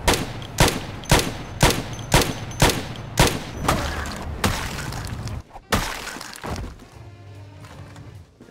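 Gunfire from a gun in the zombie survival game Project Zomboid, about nine loud, close shots fired in a steady rhythm roughly half a second apart, then a few more irregular blasts as the firing fades.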